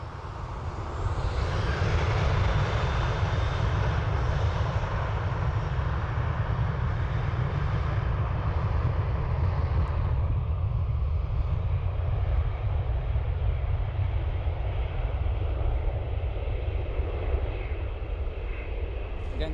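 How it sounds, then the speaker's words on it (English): Ryanair jet taking off from Dublin Airport bound for Lisbon; a sustained, loud engine roar with broad rumble and whine, steady throughout and slowly easing toward the end. "first Ryanair off to Lisbon, followed by an Aer Lingus to Amsterdam."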